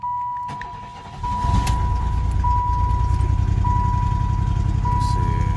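A 1990s Chevy engine starts and settles into a steady, close idle, its low rumble running continuously under a constant high warning chime from the car.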